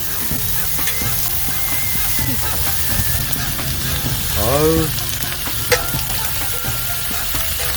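Thin slices of raw beef brisket sizzle on a preheated K-griddle at a campsite, a steady close frying hiss throughout, with a brief voice exclaiming partway through.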